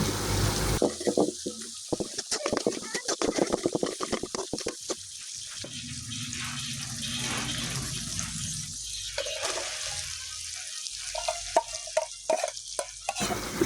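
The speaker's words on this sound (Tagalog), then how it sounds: "hinati ko lang yan sa dalawa, tapos igisa-gisa natin, haluin ng mabuti" Pechay sautéed and stirred in a pan, a dense rapid crackling sizzle at first, easing into a softer steady fry with scraping stirs and occasional sharp clinks, close and moderately loud.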